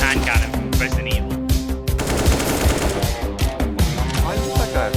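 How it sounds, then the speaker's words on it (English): Rapid, loud gunfire from a hand cannon in a Resident Evil video game, a dense stream of sharp shots running continuously with music and game sounds layered underneath. "the fucking hand cannon from Resident Evil"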